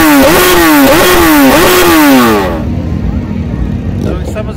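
A motorcycle engine revs loudly in several rising pulses at a motorcyclists' rally in Toledo, Paraná, then drops to a rough idle rumble while a voice talks over it.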